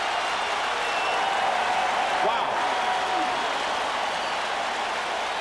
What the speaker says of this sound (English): Rashawn Early jumpstarts this Golden Gopher crowd